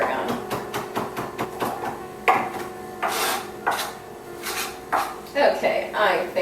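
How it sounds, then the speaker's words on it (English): A sharp knife mincing tarragon on a cutting board, a steady run of quick rhythmic chops followed by heavier scraping strokes, close and clear. "now we're just going to get a nice fine mince on that"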